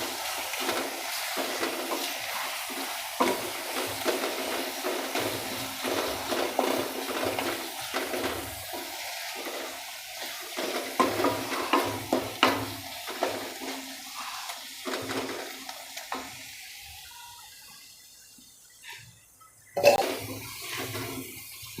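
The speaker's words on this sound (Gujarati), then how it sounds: "આ લસણવાળી ચટણી છે ને પહેલાં આવી રીતને મિક્સ કરી લેવાય એટલે ઘોળી જાય" Garlic chutney stirred and mixed in a pot of liquid while cooking a Gujarati onion and flour curry, giving a continuous wet, swirling slosh with light clinks that thins out near the end, with one sharp knock.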